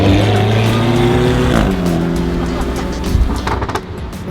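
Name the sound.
Lamborghini Aventador V12 engine and exhaust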